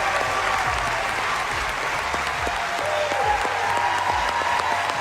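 A crowd claps steadily and fairly loudly in a dense, continuous wash of applause that holds its level throughout, with no talk breaking through.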